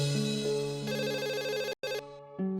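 A telephone rings alone in a sitcom household, its electronic ringtone repeating in steady bursts with one brief gap and no talk over it.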